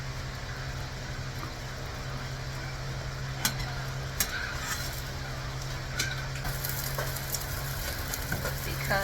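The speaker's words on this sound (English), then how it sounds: "making the gluten-free French toast. I'm using my griddle and my frying pan" Gluten-free French toast fries on a griddle and in a frying pan, giving a soft, steady sizzle under a low hum, with a few faint clicks and scrapes scattered through and no speech.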